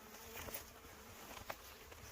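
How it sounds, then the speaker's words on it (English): Close, quiet buzzing of many honey bees around an open hive, a soft continuous drone with a few brief louder passes near the listener. "Look at all the bees in there."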